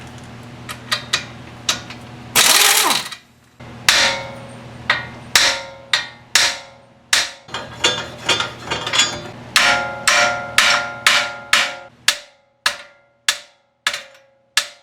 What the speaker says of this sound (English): you're going to get a 22mm and hit this ball joint bolt